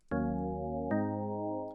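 A steady organ tone from a Yamaha DX7 emulation synth holds two sustained chords, the second entering just under a second in, smooth and even.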